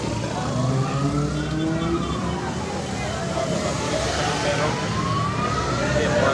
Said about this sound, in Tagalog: oh yan, may ambulansya na.